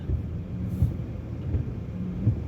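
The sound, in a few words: heavy rain with thunder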